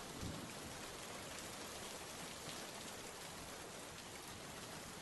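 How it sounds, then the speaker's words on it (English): Heavy rain pours down steadily in a storm, a dense, constant hiss of drops on surfaces with a low rumble beneath, loud and unbroken throughout with no voices. "You've been locked out here, in the midst of this horrid downpour, into these blistering storm winds."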